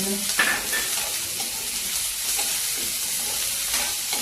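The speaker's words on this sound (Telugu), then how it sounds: "ఇదిగోండి వేపుతున్నాను" Leftover roti snack pieces with capsicum fry in a pan, giving a constant bright sizzle, with a spatula stirring and scraping close up throughout.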